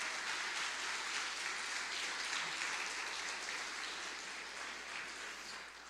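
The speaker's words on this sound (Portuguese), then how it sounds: "Você pode aplaudir a Jesus nessa noite?" A church congregation applauds steadily during an evening worship service, a dense, sustained wash of clapping from many hands that tapers slightly toward the end, with no voices standing out.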